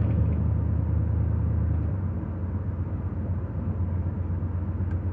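A 1979 Chevy C10 pickup truck driving on the road toward a gas station, a steady low engine drone and road rumble from inside the cab, continuous and fairly loud, with no voices.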